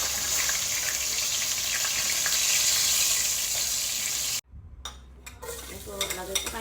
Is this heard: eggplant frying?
yes